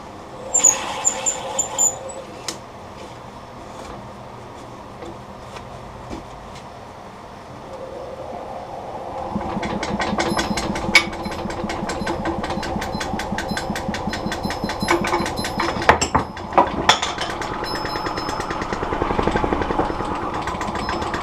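An unbolted wood lathe spins up with a live edge black poplar blank, turning from a quiet start into a loud, rumbling drone with rattling and rhythmic knocking.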